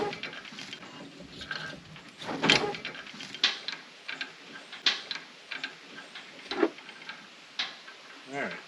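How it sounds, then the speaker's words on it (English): A hand crank turns to raise the dump bed of an Oshkosh truck, making a quiet run of irregular mechanical ticks, clicks and ratcheting knocks that continues steadily throughout. "Found the crank handle for the bed in the cab, so let's make this thing go up."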